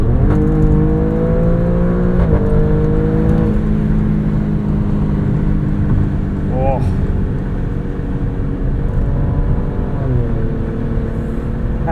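Engine of a 2022 Alfa Romeo Stelvio Quadrifoglio with ZF eight-speed automatic and paddle shifters, accelerating in dynamic mode; a steady loud drone with rising and falling pitch sweeps through shifts, heard from inside the cabin with someone talking over it.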